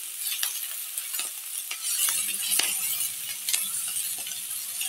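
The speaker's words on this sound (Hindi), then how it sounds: "साथ ही इसमें डालेंगे शिमला मिर्च और इसे भी फिर से अच्छे से चलाएंगे" Capsicum and mixed vegetables for veg chow mein being stirred in a hot pan, a steady sizzle with scraping spatula strokes and occasional clinks against the metal, close and moderately loud, no talking.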